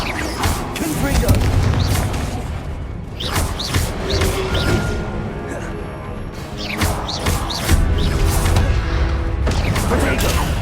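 Booming blasts of the Confringo spell in Hogwarts Legacy burst out repeatedly amid other spell effects and combat noise, with several loud impacts spread across the stretch.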